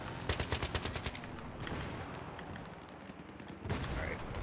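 Battlefield 3 gameplay with a rapid burst of automatic gunfire up front, then rumbling explosive booms from mortar fire and a loud blast near the end, with some voices under the combat.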